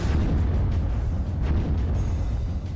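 Heavy, rumbling artillery shell blasts in a war zone in Ukraine, a loud continuous low roar with a few sharper bursts layered through it.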